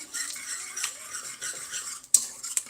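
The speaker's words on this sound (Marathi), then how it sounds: "छान फेटून घेऊया" Cooked toor dal and tomato are whisked in a pot with quick scraping, swishing strokes at close range, ending with two sharp metallic clinks against the rim, with no talking.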